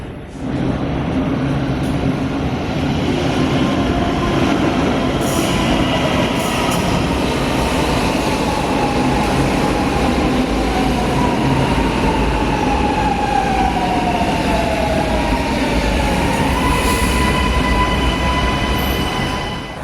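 A Milan metro train rumbles steadily throughout, with rising and falling wheel squeals and a constant low roar of carriages in motion, no talking.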